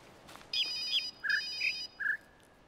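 A phone ringtone in the video game The Witness plays as a series of short bright electronic beeps in quick groups, clear and alone against a quiet background.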